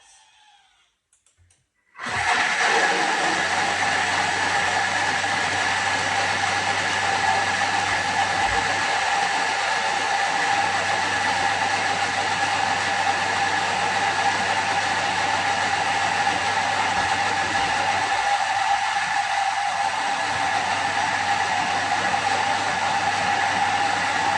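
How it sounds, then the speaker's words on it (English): A kitchen blender blending soaked almonds and water into almond milk on speed 8. It switches on abruptly after a brief quiet start and then holds a loud, steady, high-pitched motor whir and rattle, close up and without a break. "we're going to blend that together for 25 seconds on speed 8"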